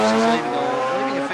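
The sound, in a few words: drag racing car building boost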